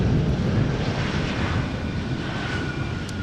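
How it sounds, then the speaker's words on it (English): A KLM Embraer 190 airliner arriving from Munich roars steadily at an airport, a loud, broad engine rumble holding level throughout with no speech. "This is KLM flight 1792, Embraer 190 arriving from Munich"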